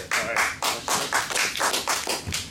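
An audience at a club endorsement meeting applauds a sheriff candidate, a dense burst of clapping rising and falling in rhythmic waves, loud and close, with a faint voice underneath.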